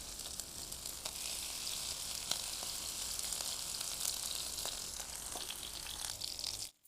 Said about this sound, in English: And we'll fry them.